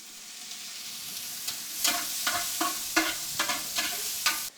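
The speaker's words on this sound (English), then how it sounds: "And then we're going to throw some olive oil in here and stir it around." Onions fry in olive oil in a pan, a soft sizzle punctuated by a series of distinct scraping strokes and clacks as they are stirred, close by and without talk.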